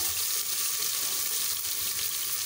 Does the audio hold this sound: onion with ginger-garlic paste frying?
yes